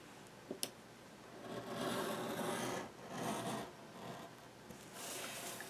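A paper trimmer slides along an album page to trim it at the score line, giving several soft rasping strokes after two small clicks, close but quiet, with no talk.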